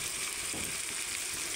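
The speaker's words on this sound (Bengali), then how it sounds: "রসুন দিয়ে দিলাম, রসুন দিয়ে ভালো করে ভেজে নেবো" Garlic and onions fry in hot oil for a chicken dish, giving a steady, even hiss of sizzling with no voices.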